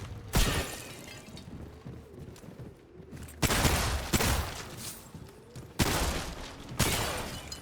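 Gunfire in the video game Remnant 2 blasts breakable objects, with four loud, crashing bursts of shots and shattering spaced a few seconds apart and quieter rumble in between.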